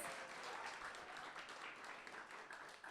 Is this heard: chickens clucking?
no